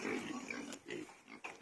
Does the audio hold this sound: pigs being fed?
yes